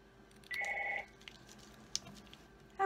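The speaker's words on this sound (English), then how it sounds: "I forgot to put my phone on airplane mode, so I got a call come in." A mobile phone rings with an incoming call: one short electronic tone burst of about half a second, followed by a quiet room with a few faint clicks.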